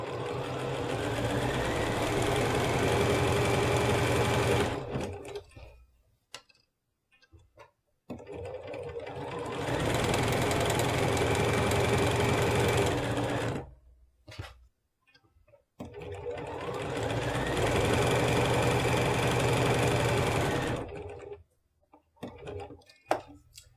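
Domestic sewing machine chain-piecing quilt triangles for flying geese blocks, heard as three long steady runs of whirring stitching, each about five seconds, separated by short pauses with small handling clicks.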